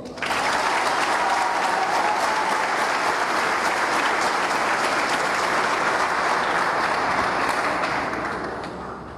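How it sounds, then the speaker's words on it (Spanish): A large crowd at a solemn municipal swearing-in session applauds an elected councillor, loud sustained clapping that holds steady for several seconds before tapering slightly at the end. "Fuerte el aplauso también para el licenciado Martín Dimas Zamora, regidor municipal electo."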